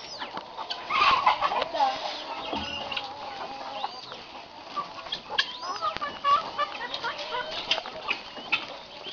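Soft chicken-like clucking from a five-month-old curassow chick, repeated peeps and clucks among other birdsong outdoors, with a person talking quietly at times.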